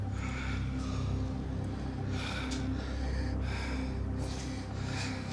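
A soldier's labored breathing in the First World War film 1917, with harsh gasps and snorting breaths over a steady low roar of wind and fire, faint and continuous with no talk.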